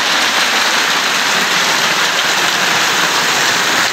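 Heavy tropical rain pours steadily onto a hut in a durian orchard, a loud, dense, unbroken hiss of drops that holds at constant volume throughout, with no voices.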